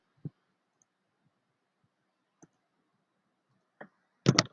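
Computer keyboard keys pressed for a Control C shortcut: a handful of faint, sharp, separate clicks spaced apart over near silence, the last two slightly louder.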